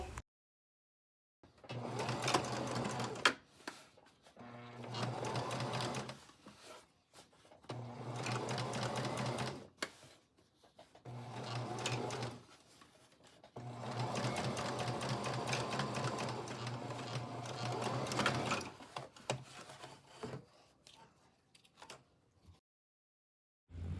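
A sewing machine understitches a dress neckline on small practice pieces, running in several steady bursts of rapid mechanical stitching separated by short pauses, close and clear with no talking.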